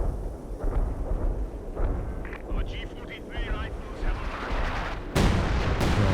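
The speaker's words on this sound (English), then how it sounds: "Calling in the 105 artillery over here now as well" Artillery barrage from 105 mm guns in the strategy game Company of Heroes 2, a continuous rumble of booming impacts building to a loud, heavy blast near the end, with battle noise and talk throughout.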